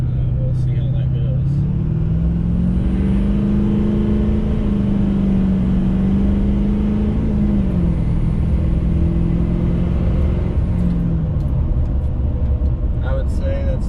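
A car on a highway test drive after a DSP5 switch install hums with a steady engine drone whose pitch climbs, levels, then drops through a shift, heard from inside over constant road rumble.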